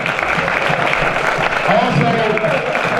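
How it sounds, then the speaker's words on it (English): A crowd at a community panel event on returned citizens gives a round of applause, loud continuous clapping with voices murmuring underneath. "give a round of applause"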